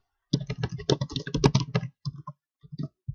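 Someone types a forum post on a computer keyboard in quick close bursts of clattering keystrokes, then pauses and adds a few scattered taps.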